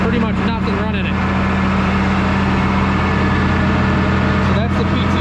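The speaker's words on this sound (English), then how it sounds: "you can hear the tractor, it's just running, pretty much nothing running it." A John Deere 7520 tractor on a dyno runs with its load removed, a loud steady low engine drone with a constant hum and no change in pace from start to finish.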